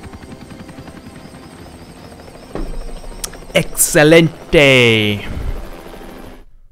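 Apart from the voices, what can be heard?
helicopter in the video game Hitman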